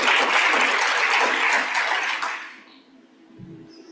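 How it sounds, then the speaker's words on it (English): Audience applause at a conference keynote, a loud full round of clapping from a large crowd that holds steady, then quickly fades into near silence. "Are y'all clapping because I made 60?"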